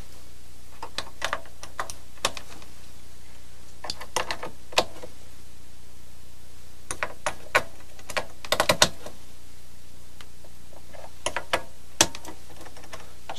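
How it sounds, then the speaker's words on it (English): Scattered small clicks and taps of vacuum tubes being handled and seated into a guitar amp, with quiet gaps between clusters; no voices. "Next, we're going to place the tubes back in."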